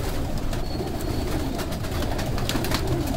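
A female Jonsra pigeon coos amid a dense, steady wash of background noise that continues unbroken throughout, with no voices present.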